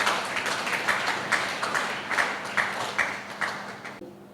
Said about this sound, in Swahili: Kwa hiyo naombeni tuwapigie makofi tena hawa wataalamu wetu ya kutosha